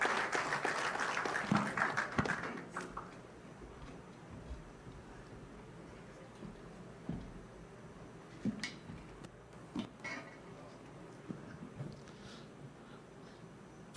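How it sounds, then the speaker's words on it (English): A crowd claps in a university hall at a ceremony, the applause fairly strong in the first two seconds, then fading to scattered claps and a low room hum. "Let's give him a round of applause."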